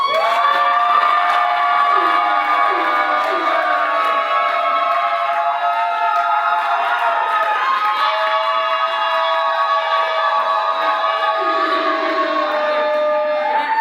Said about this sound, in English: huge round of applause if you think Austin Gamlin won this roast!